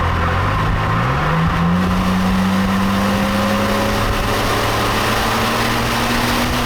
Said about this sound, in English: Let's see what that engine will do if you want to rev it out